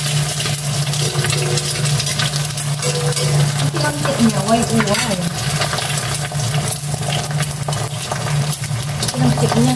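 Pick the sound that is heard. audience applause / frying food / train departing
frying food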